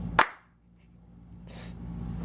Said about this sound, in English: Go for clap sync